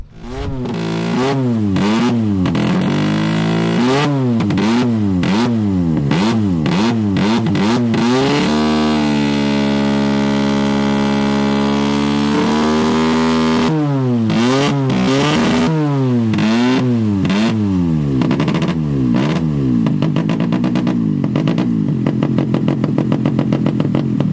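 A Norton rotary-engined motorcycle revs loudly close by, its engine note rising and falling in repeated sweeps, holding a steady high idle midway through, then winding up again, with no talk over it.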